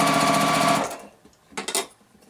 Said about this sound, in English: I can just continue to sew these together